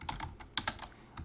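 Rapid keystrokes on a computer keyboard while entering text into a text box in stock charting software, a short burst of close, quiet, uneven clicks with a couple of sharper taps.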